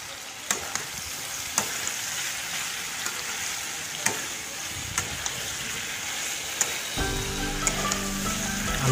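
Cut medium potatoes fry with pork in a hot pan, giving a dense, steady sizzle with sharp clinks and scrapes of stirring throughout, close and without speech.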